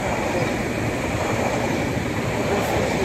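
An ED160 electric train passes close by with a loud, steady rumbling roar of wheels and motors that fills the whole moment.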